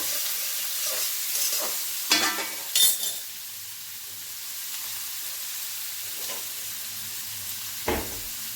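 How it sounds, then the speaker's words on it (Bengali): Chopped onions sizzle steadily in a pan for mushroom masala, with a few sharp scrapes and clinks of a stirring utensil against the metal; no one talks. "পেঁয়াজ কুচোটা দিয়েও খুব ভালো করে নাড়বো"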